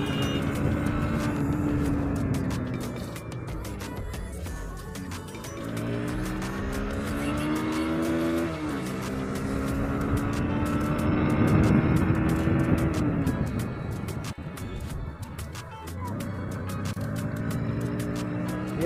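A motorbike on 140-section tyres makes a speed run on a road, its engine loud and close as it revs up through repeated gear changes, with rushing wind noise throughout.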